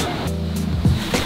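Cold Pacific ocean waves breaking and washing onto the California coast at a beach, a steady low surf roar with a louder crash near the end.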